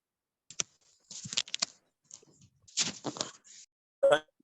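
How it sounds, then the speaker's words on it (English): Computer keyboard typing during an online workshop: short scattered bursts of clicks at close range, separated by brief silences. "I'm typing it in the chat for you"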